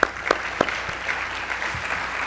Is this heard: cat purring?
no